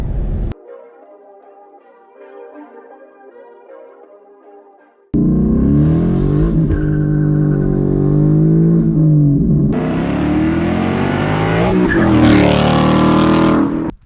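A car with a stock Ford Coyote V8 accelerates hard, loud and close, its engine note rising through the gears with a brief lift in the middle. Before it, a quieter stretch holds faint, bell-like tonal sounds.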